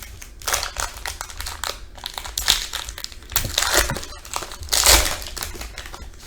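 A foil wrapper on a jumbo pack of 2019 Bowman Draft Sapphire trading cards is torn open and crinkled up close, giving loud, irregular bursts of crackling and tearing with no talk.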